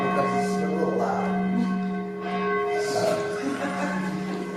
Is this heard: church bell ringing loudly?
yes